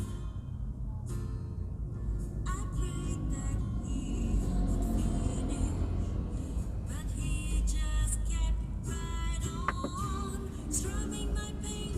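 A Suzuki XL7 pulls out of a parking space, a low steady engine rumble inside the car with faint clicks and small tonal beeps over it.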